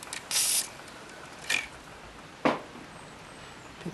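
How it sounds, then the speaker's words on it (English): Lubricant sprayed in a few short, close hissing bursts onto a cast iron meat grinder during a repair, with quiet pauses between them. "Bit more lubricant there."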